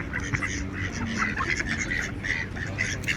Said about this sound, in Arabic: كل البط اللي حوالينا اهو.